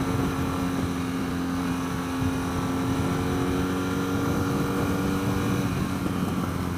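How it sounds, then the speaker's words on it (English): A 2016 BMW R NineT motorcycle with an Akrapovic exhaust drones loudly and steadily up close, its engine note holding an even, rumbling tone with strong harmonics and no talking. "Oh, I love that exhaust sound on the overrun."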